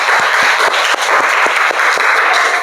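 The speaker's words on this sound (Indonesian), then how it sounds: "Tepuk tangan dulu dong." Classroom audience of students clapping together after a presentation, a dense steady round of applause with a few sharper individual claps standing out, loud and close, no talking.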